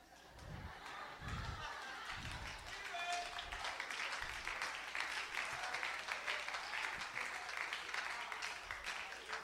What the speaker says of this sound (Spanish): me aplaudieron cuando dije que iba a seguir con él